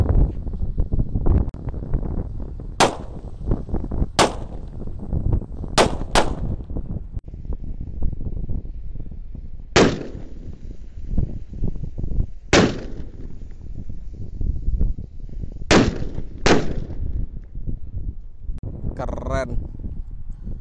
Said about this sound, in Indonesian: Lanjut kita nyalakan, ini ada 4 mercon sunflower